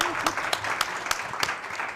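Steady audience applause fills the space, a dense wash of clapping with a few sharper claps standing out, under faint background voices.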